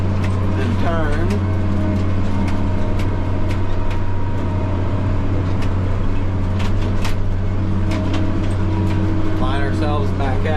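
A tractor engine runs during spring tillage in the field, giving a loud, close, steady diesel drone throughout, with brief talking near the start and end.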